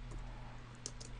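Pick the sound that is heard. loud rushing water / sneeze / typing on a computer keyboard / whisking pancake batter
typing on a computer keyboard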